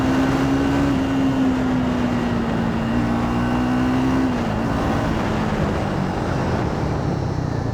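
A Triumph Speed 400 motorcycle is ridden at speed, its engine a steady droning hum with a sustained tone that holds and then shifts slightly, under continuous wind and road rush.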